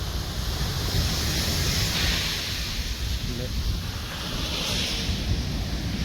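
Ocean waves washing onto a beach in Africa, a continuous rushing surf with wind buffeting the microphone. Distant voices sit faintly underneath.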